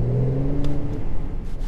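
Mercedes C43 AMG revving with its exhaust flaps held fully open by an aftermarket module; a short, close, loud burst of deep engine rumble with a falling tone and no talk over it.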